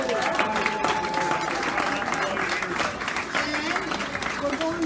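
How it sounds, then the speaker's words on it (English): A concert audience at a variety show breaks into sustained applause for an absent performer, a dense wash of clapping with voices mixed in. "Let's give a big applause for Kevin"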